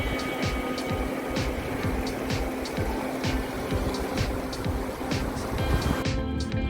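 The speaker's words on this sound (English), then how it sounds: "to hear the careless sounds of the river" A rafting river in Georgia flows steadily as broadband rushing water, loud and continuous for the whole stretch, with faint rhythmic thumps underneath and no speech.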